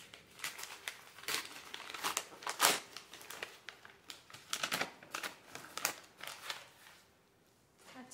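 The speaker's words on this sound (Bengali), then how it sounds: "চলো ওপেন করি, তার হাত দিয়ে ছিঁড়ে দিই" Paper gift wrapping on an unboxing parcel is torn open by hand at night, giving a run of close, sharp crinkling rips and rustles in irregular bursts that taper off near the end.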